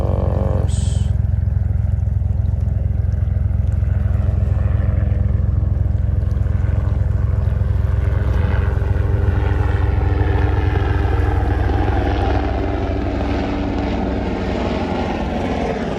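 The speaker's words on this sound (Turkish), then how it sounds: "Arkadaşlar helikopter geçiyor üzerimden." Military helicopter flying low overhead near a rocky shore during evening fishing: a loud, steady rotor and engine roar that fills the whole stretch, with a faint voice briefly under it.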